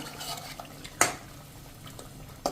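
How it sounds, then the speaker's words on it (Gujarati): Carrot paste sautéed in ghee in a pan over a slow-to-medium flame, with a soft, quiet stirring scrape and two sharp utensil clinks against the pan. "પેસ્ટ કરી છે ને એ આપણે આમાં સાંતળી લેશું ઘીમાં"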